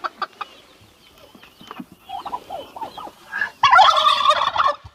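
Homestead poultry, turkeys among them, gobble and cluck close by while being fed, starting as scattered calls and rising into a loud, dense burst of rapid gobbling at the end.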